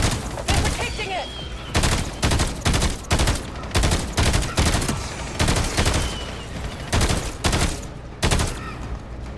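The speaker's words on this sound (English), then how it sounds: "Shoot those scumbags!" Loud bursts of gunfire in the Black Ops 7 co-op campaign, repeated sharp volleys in uneven clusters with brief gaps between them, close and dominant throughout.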